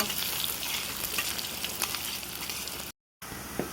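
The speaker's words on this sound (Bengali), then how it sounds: "যে পেঁয়াজটা ভাজা হচ্ছে লাল লাল হয়নি" Onions and green chilies frying in oil for a beef and giant taro curry, a loud steady sizzle with scraping stirs close up, briefly cut to silence near the end before resuming.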